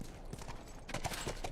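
A horse's hooves clip-clop at a walk in The Last of Us video game, a soft, uneven series of knocks that grows a little louder and busier toward the end.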